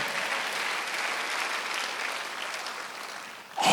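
A church congregation at a Sunday worship service applauds steadily, a dense wash of clapping that holds for several seconds before a louder sound cuts in at the end.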